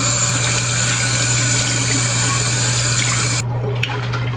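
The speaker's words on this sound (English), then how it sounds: "As soon as I wash it off, I'll rinse it off right now." Running tap water pours steadily into a sink while someone rinses off their face, a loud continuous splashing that cuts off sharply near the end.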